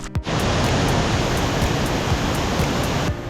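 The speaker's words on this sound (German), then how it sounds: "Die Wanderung ist quasi gerade der kleine Wasserfall." Small waterfall along a hiking trail, a loud, dense and steady rush of falling water close by that fills the whole stretch without a break.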